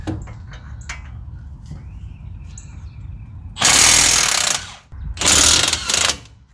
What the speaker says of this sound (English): This is where an impact is going to come in handy as we try and get these bolts out of here.